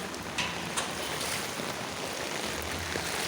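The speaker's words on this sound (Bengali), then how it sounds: "দেখেন গাড়ি যাচ্ছে আর পানি, দেখেন গাড়ি থেমে থেমে যাচ্ছে পানির জন্য" A car moves through a flooded street in Banani during Cyclone Remal, making a continuous broadband rush of churned water with small surges and no voices.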